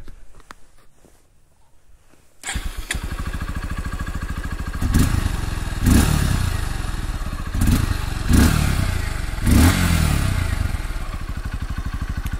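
A 2023 Honda XR150L motorcycle fires up after a brief quiet moment and settles into a steady, muffled idle close by, with a few throttle blips and clunks rising over the running engine.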